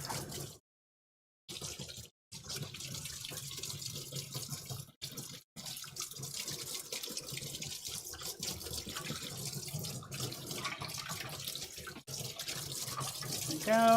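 Hot tap water runs into a sink, rinsing a sieve that was just scrubbed with suds. The water keeps up a steady broadband splash for most of the span, with a couple of brief breaks where the flow is shifted or interrupted.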